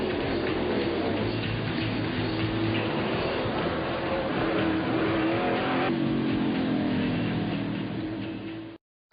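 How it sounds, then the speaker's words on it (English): NASCAR stock cars race at Martinsville during the 2003 Virginia 500, producing a sustained roar of engines with rising and falling pitch as cars pass, steady throughout before cutting off abruptly at the end. "Race leader Jeff Gordon is in heavy traffic"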